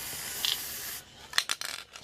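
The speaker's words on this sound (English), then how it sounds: "spray it up and down the blade once, rub it in, let it sit for 40 seconds" Tri-Flow or WD-40 lubricant is sprayed onto a knife blade: a close hissing burst for about a second, then short scraping and rubbing sounds, no voices.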